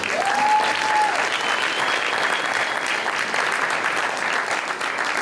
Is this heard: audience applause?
yes